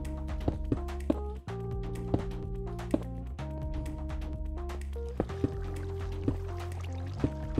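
Water flows in Minecraft as a continuous liquid gurgle, with soft drips and splashes over a steady tonal background hum and occasional sharp clicks.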